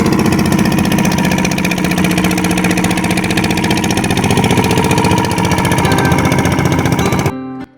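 A boat engine on the Padma river chugs loudly and steadily in a rapid mechanical rhythm, close and continuous with no talk, then cuts off abruptly near the end.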